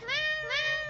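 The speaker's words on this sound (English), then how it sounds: "symphony of meows." A cat meows twice in quick succession, two clear, close, rising-then-falling cries with a short gap between them.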